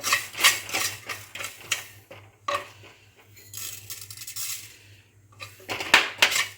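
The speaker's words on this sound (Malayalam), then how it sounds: "ആദ്യം തന്നെ നാം ഉലുവ വറക്കുകയാണ്." Dry fenugreek seeds rattle and clink against a clay pot as they are dry-roasted without oil or water, in irregular bursts of scraping and tapping with a low steady hum beneath.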